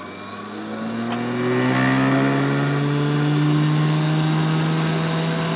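A Sorvall Instruments Micro Spin 24S benchtop centrifuge with a 24-place rotor spins up, its motor whine rising steadily in pitch and volume before settling into a constant high hum, close and alone.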